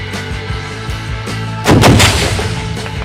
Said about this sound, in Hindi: और फिर स्नाइपर टारगेट को फायर करता है